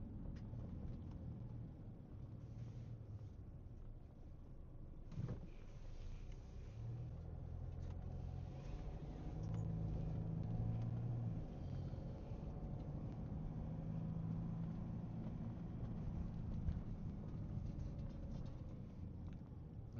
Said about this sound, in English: right now I'm driving down on First Street